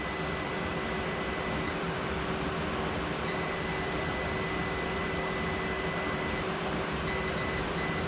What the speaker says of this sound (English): It obviously worked because it's beeping now